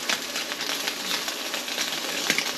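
Abalone sears in a hot pan, a faint, steady sizzle with light crackles, heard close and with no one talking.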